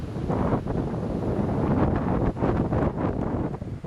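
Wind buffets the microphone continuously at Dover Dam, a loud rumbling roar with gusty surges and fluttering bursts throughout.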